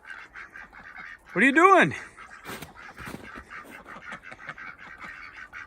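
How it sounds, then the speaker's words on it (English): Khaki and mallard ducks quack close by: one loud, nasal call rises above a steady run of softer, evenly repeated quacks, and a person briefly speaks. "not staring at the ducks, just quacking"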